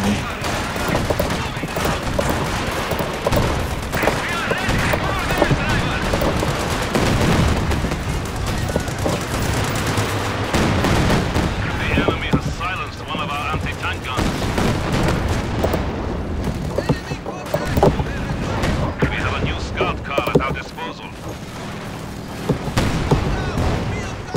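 A sustained artillery and gunfire barrage in the Company of Heroes 2 war strategy game, with dense overlapping shots and booms continuing throughout, loud and unbroken, and occasional voices under the din.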